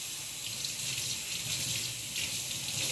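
Tap water runs steadily into a sink, rinsing raw chicken wings as they are cleaned and trimmed of fat; a continuous close hiss and splash with no talking.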